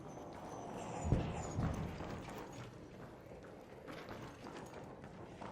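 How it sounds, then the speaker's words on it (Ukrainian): Heavy robot footsteps in the shooter Arc Raiders, a run of muffled thudding steps nearby, one louder impact early on, then quieter trailing footfalls under a low background rumble. "Це робот."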